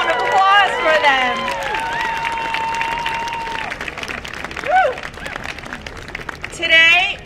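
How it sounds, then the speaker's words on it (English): Audience at a Montclair Lunar New Year festival clapping and cheering for the Lionhead dancers, a burst of applause under a speaker's voice, with whistles and excited calls rising near the start and again at the end. "Another round of applause for them."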